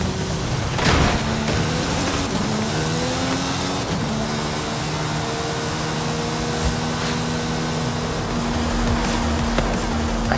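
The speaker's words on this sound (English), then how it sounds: "I see this car coming quickly towards me" A car in a battle-royale style video game drives in fast toward the player near the arena, its engine a steady mid-pitched drone with rising harmonic tones as it closes in, continuous and fairly loud over the game's background noise.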